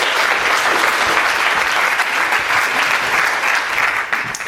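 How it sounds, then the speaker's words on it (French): Sustained audience applause, loud and dense, a steady wash of many hands clapping throughout. "on l'applaudit"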